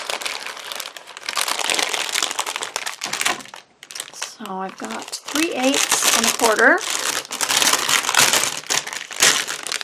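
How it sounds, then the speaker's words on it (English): Masking tape pulled off a roll and pressed along the edges of a small Christmas craft piece, with loud, continuous crinkling and tearing close up while someone talks briefly. "So I am going to put some tape on these edges."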